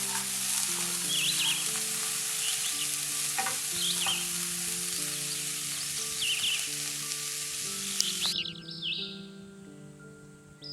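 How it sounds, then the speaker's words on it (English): Dandelion roots roast in a Chinese wok with a steady close sizzle and repeated scraping stirs, faint bird chirps in the background, and a low drone under it all that cuts off near the end. "Let's roast them to the crispy golden brown color."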